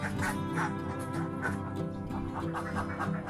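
Laying ducks foraging in a flooded rice field, a dense, continuous chorus of overlapping quacks and honking calls at steady moderate loudness, with no talking.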